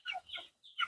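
Andijan black chickens, a mixed flock of roosters and hens about 110 days old, clucking in short close bursts with brief pauses between them, heard alone without talk.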